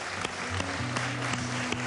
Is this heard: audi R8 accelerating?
no